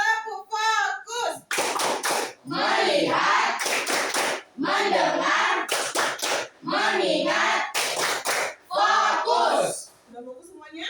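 Junior high students in a classroom play the tepuk fokus ice-breaking game, chanting words in unison between sharp bursts of rhythmic group hand clapping that repeat several times.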